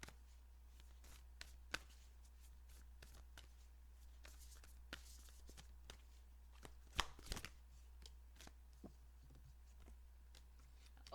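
A deck of tarot cards being shuffled, with soft scattered riffles and card taps close by and fairly quiet over a steady low hum, without talk.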